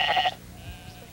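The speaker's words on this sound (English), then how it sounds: "This handsome black-faced sheep is called a Suffolk." A black-faced Suffolk sheep gives one short, wavering bleat, close and clear, then falls quiet against a faint background.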